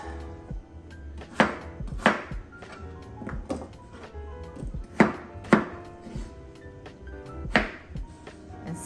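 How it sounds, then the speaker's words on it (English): A kitchen knife chops peeled potatoes into cubes for make-ahead mashed potatoes, striking a cutting board in sharp, irregular thunks, several of them louder, over a low steady background hum. "now we're gonna go ahead and cut our peeled potatoes into"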